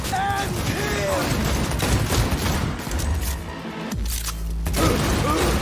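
Rapid bursts of gunfire in a shooter video game, including shotgun blasts, loud and close, with clanking mechanical game sounds, a deep boom near the end and voices talking over the action.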